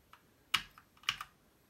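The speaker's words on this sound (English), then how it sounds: "Testing the keyboard. Making sure all the keys work." Keys on a TRS-80 Model 1 computer keyboard are pressed one at a time, giving a few sharp, close clacks with a couple of louder strikes amid quieter taps.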